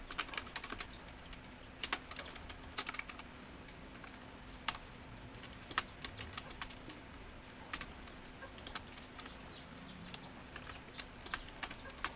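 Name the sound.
typing code on a computer keyboard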